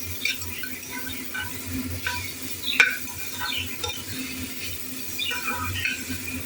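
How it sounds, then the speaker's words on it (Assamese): Raw papaya pieces fry in a pan with a soft, steady sizzle, while a spatula stirs them with intermittent light scrapes and taps and one sharper clack. "এতিয়া অমিতাখিনি মই ইয়াৰ লগত অকণ ভাজি লওঁ"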